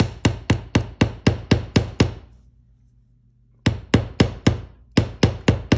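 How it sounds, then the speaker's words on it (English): A hammer taps a faux leather belt buckle in quick, even blows, about nine in a row, then a short pause before another steady run of strikes, crisp and close with no voices. "I like to hammer it a little bit just so it looks more like a real buckle."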